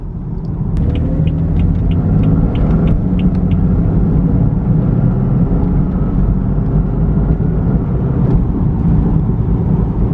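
Car engine drones steadily while driving, a loud low rumble that holds constant throughout with faint high whine tones early on; no voices.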